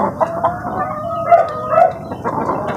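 Farmyard chickens cluck near a newly hatched chick, a run of short bursts and warbling calls close by, repeating irregularly through the brief moment.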